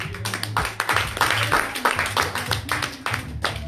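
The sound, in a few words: congregation clapping in church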